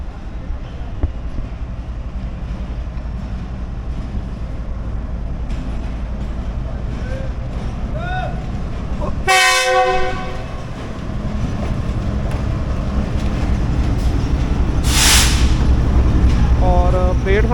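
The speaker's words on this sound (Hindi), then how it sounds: "लेकिन दोस्तों सामने से आ रही 33 पाक बिजनेस एक्सप्रेस जो कि कराची से निकले और मंजिल है इसके लाहौर" Pak Business Express passenger train from Karachi to Lahore, led by locomotive GU40 9043, rumbles steadily through a station as it approaches and passes, with a loud horn blast midway and another toward the end over continuous wheel and carriage noise.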